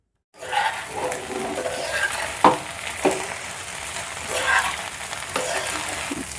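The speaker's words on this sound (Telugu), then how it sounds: "ఒక రెండు నిమిషాలు స్టవ్ లో ఫ్లేమ్లో పెట్టి ఫ్రై చేసామంటే చక్కగా బెండకాయ ఫ్రై" Sliced okra (bhindi) fries in an oil-coated pan on a stove while a spoon stirs it. A steady close sizzle carries a few sharper scrapes and clinks of the spoon against the pan, with no voices.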